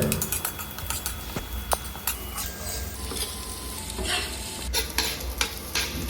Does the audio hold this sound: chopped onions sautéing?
yes